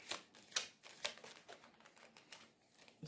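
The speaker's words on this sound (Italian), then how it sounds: "Quindi voi mischiate le carte." Tarot cards being shuffled by hand, a few soft, quiet riffling swishes and taps spaced out over a few seconds, with no talk over them.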